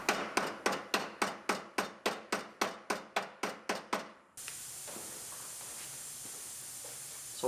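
A hammer taps a car body panel into place on a rebuilt Terrain, about fifteen sharp, evenly spaced strikes close by, followed by a steady background hiss.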